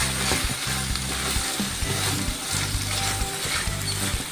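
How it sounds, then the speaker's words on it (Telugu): Yam and amaranth leaf curry is stirred in a pan, a steady close sizzle with repeated scraping and clicking strokes of the spoon against the pan, no voices. "నెమ్మదిగా కలుపుకోవాలి, ఎందుకంటే పేస్ట్ అవ్వకూడదు"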